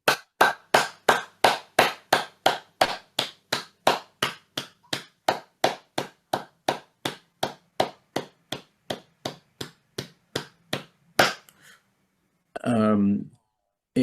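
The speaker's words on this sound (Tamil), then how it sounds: "இதை பாராட்டும் மூலமாக நாங்கள் ஒரு சில வினாடிகள் கரகோஷம் எழுப்புவோம்." An audience at a Tamil meditation talk claps together in a steady rhythm, roughly three sharp claps per second. The claps gradually weaken and stop, and a short spoken voice follows.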